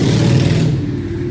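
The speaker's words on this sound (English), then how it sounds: "If a motorcycle is going to sound like that, it should be pretty." A motorcycle engine passes close by with a loud, rough low rumble. It is strongest at first and eases slightly in the second half.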